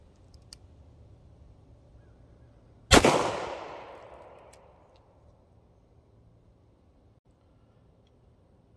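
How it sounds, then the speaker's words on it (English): A single loud, close gunshot from a Ruger Security Six revolver chambered in .357 Magnum, fired outdoors at a target about 7 yards away, with a sharp crack and a long fading echo in a quiet setting. "here goes our first shot out of this Ruger Security 6, chambered in 357"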